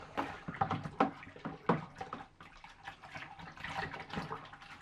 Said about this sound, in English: I suggest then we run the tap and we get cold water.